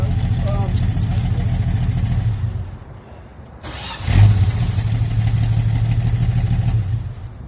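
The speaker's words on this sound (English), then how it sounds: "Wow, it started right up." A car engine cranks and catches, goes quiet for a moment, then turns over again and settles into a steady rumble.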